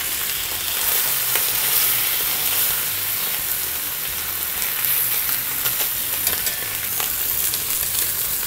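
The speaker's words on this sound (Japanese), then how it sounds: "薄めのお肉焼くときはこの音が大事です。" Beef chuck eye steak searing in a hot frying pan gives a loud, steady, continuous sizzle with crackling spatter throughout, and no voices.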